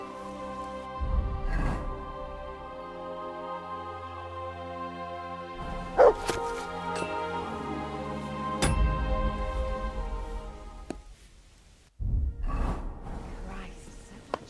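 A dog in the video game Kingdom Come: Deliverance 2 gives a few short barks and yips spread through the clip, mixed with other game sounds and a voice speaking.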